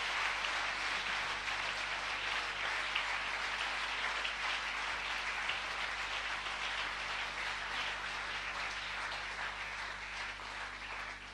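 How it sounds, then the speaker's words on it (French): A church congregation at a Sunday service applauds together in a long, even wash of clapping that holds steady from start to finish, with no voices breaking through. "Applaudissez pour le Seigneur"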